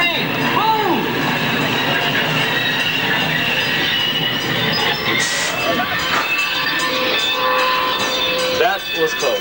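A train rumbles past up close on the Universal Studios Hollywood studio tour, loud and continuous, with wheels squealing against the rails and a brief horn blast partway through.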